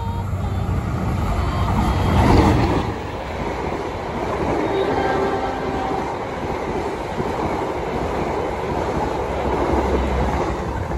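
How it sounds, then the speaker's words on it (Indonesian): The Argo Wilis passenger train, carrying a panoramic car, rushes past on a curve near Prambanan with a loud, continuous rumble and clickety-clack of wheels, close by and steady throughout. "kereta api Argo Wilis sudah lewat dan membawa gerbong panoramik"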